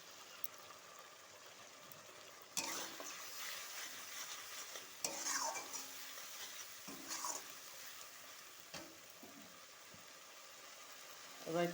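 Fish curry spices with Kashmiri chili powder stirred in a pan for a Katla kalia, giving a soft, continuous scraping and light sizzle with a few sharper clatters of the spoon against the metal.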